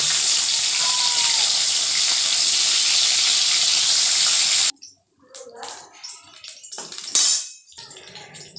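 Fish fries in oil with a constant bright sizzling hiss, which then cuts off suddenly. Quieter clatters and scrapes of a pan follow.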